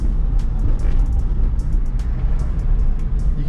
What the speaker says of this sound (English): It's just like boom, boom, boom, boom, boom. I'm praying that it's a belt in the tire.